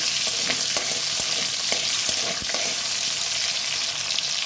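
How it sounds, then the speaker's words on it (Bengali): Diced potatoes frying in hot oil, a loud dense sizzle running steadily with a few light taps of a spatula underneath, close up and without speech. "আলুটা ডুমো ডুমো করে কেটে রেখেছিলাম, আলুটা এখন আমি ভেজে তুলে রাখবো"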